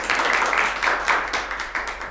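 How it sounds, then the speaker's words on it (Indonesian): A classroom of students claps for a student group during a microteaching session, a quick burst of fairly loud, rhythmic clapping in even pulses lasting about two seconds. "tepuk tangan untuk kelompok"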